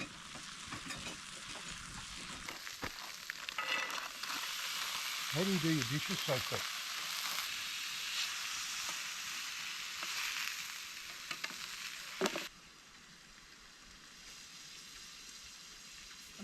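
Food sizzles and fries in a pan over a campfire, a loud, steady crackling hiss that holds for about twelve seconds before dropping away. A person speaks briefly over it.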